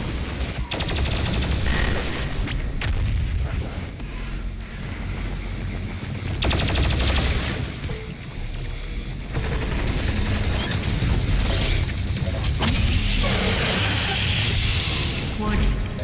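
BFG 10,000 in the video game Doom Eternal firing amid dense, loud continuous combat noise with heavy booming blasts and rapid gunfire, a voice talking over it at times.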